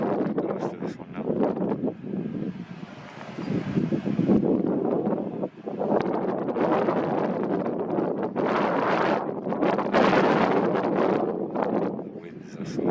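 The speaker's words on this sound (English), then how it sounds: "The winds are so strong." Heavy wind sweeps across the Top of the Rock, Gibraltar, roaring steadily into the microphone in loud, rising and falling gusts, with someone speaking faintly under the blast.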